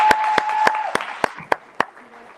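A handful of sharp, separate claps ring out for a speaker at a livestreamed evening event. Roughly seven spaced hits sound over a faint lingering tone, sparse and close rather than a full crowd.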